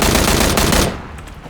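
Loud, close automatic gunfire in PUBG: Battlegrounds, a dense rapid burst that holds for almost a second, then cuts off and leaves a fading echo.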